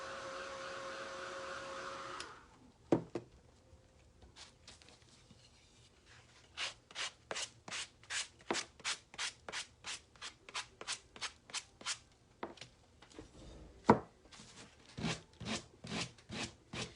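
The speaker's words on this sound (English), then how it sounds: "I'm just going to sand off the excess. I like using a foam sanding block" A foam sanding block rubs over a tissue-covered craft piece, first a brief steady hiss, then a run of quick rhythmic scratchy back-and-forth strokes, close and fairly crisp, with no talk.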